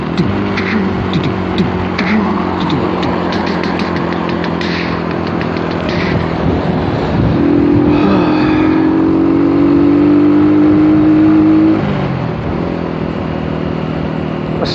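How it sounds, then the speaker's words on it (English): Road traffic at night as heard during a ride along: a continuous engine hum and tyre roar, with one vehicle's engine note rising and swelling louder midway before easing back, no talking. "traffic's building up again"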